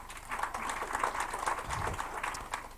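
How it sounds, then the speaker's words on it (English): An audience claps and applauds at a live show, a steady, fairly close wash of many hands lasting a few seconds with no one talking. "Let's give them a round of applause."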